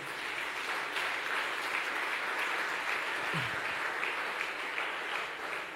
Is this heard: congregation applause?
yes